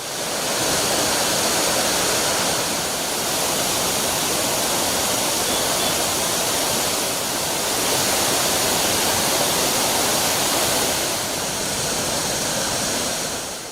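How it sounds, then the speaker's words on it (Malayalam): Roaring monsoon waterfall near Ankola, where water plunges from high rocks: a dense, steady, loud rush of falling water with no voices. "മഴക്കാലത്ത് വെള്ളച്ചാട്ടം ഉഗ്രരൂപം ഭാവിക്കും. ഇരമ്പൽ ഭയാനകമെങ്കിലും കാഴ്ചയ്ക്ക് ഭംഗിയേറെയാണ്."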